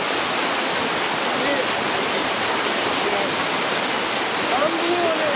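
A river flowing past a garden, a steady full-bodied rush of water that fills the whole clip without a break, close and loud, with no talk over it.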